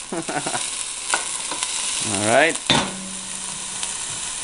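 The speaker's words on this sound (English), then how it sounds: "you hear that sizzle?" Chopped onion sizzles in a pot as the base for a beef stew, a steady close frying hiss with stirring scrapes, while someone speaks briefly over it.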